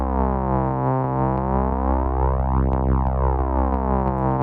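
A Rhodes electric piano tone run through the V-PAN plugin with slew added holds steady, with sweeping, pulsing harmonics, alone and loud, before cutting off abruptly.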